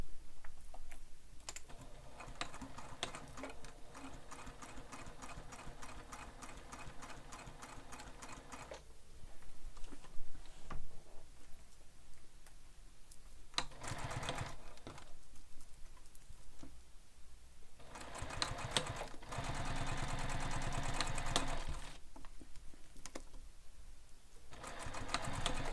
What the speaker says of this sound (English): So I'm just top stitching down the sides of F right now.